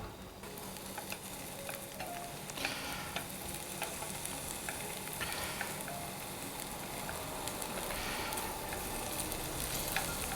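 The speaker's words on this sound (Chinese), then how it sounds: "中小火下入刚刚我们煮熟的土豆" Boiled potato chunks sizzle steadily in a little oil over medium-low heat, a soft, continuous crackle with light scraping and stirring throughout.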